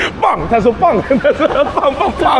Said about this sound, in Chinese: 那里有个狗在叫